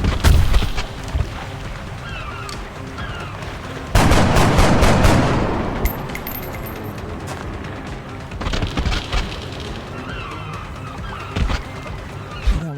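Shotgun blasts ring out in the XCOM Enemy Within Long War mission Infestation, loud broadband booms with a heavy burst around the middle amid ongoing battle noise and ambient game sound.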